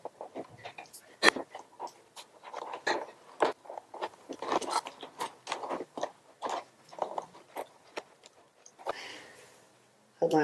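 Thick headliner material in a Sprinter van ceiling is cut in a circle, giving repeated close crunching, rasping strokes in an irregular rhythm, with a voice talking intermittently.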